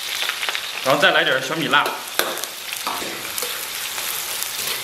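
Ginger and scallion greens are stir-fried in hot oil for a pig intestine dish, giving a steady close crackling sizzle, with a voice speaking briefly over it.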